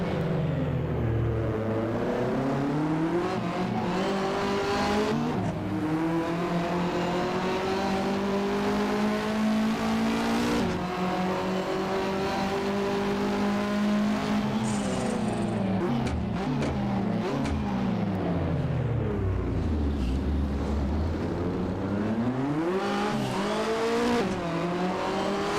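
Australian touring cars from the 1985–1992 championship racing in Assetto Corsa, engines revving and shifting through gears with rising and falling whines, continuous loud motor noise with a brief high squeal partway.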